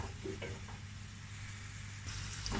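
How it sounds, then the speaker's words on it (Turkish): Quiet, steady sizzling of onions sautéing in oil in a pot, with a few faint clinks of stirring, and a brief louder hiss near the end. "Soğanlarımı soteliyorum."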